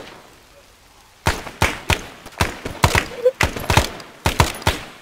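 Gunfire in the military shooter Arma 3, SOG Prairie Fire setting: after a quiet second, a string of sharp, loud single shots and short bursts cracks out at an irregular rhythm, close by.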